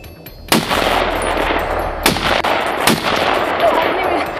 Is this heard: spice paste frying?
no